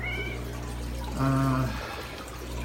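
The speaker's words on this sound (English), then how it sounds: "And Dharma the cat says hello everybody." A cat gives a single clear meow lasting about half a second, close to the listener, over the steady hum and bubbling water of a running marine aquarium.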